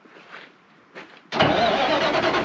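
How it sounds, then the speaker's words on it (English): A PistenBully snowcat's engine cranks briefly, catches and settles into a loud, steady near idle with no voices. "So you got to move the truck and then start up the piston bully"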